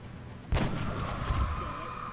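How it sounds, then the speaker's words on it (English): A gunshot headshot on an alien in XCOM: Enemy Unknown hits as one loud, sharp blast. A rumbling tail follows, with a second, softer thump about a second later. "And I need to headshot this thing."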